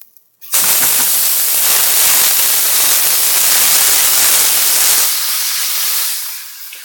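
A steak sears in a hot pan as it is flipped, bursting into a loud, dense hiss of sizzling fat. The sizzle holds steady for several seconds, then fades to quieter crackling near the end, with no voices.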